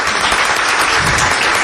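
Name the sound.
audience applause at book launch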